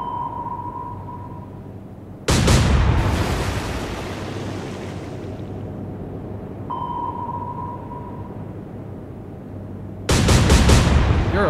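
Naval gunfire and explosions in the warship game Atlantic Fleet: two loud, sudden booming blasts, each fading into a long rumbling roar, with a faint steady tone between them.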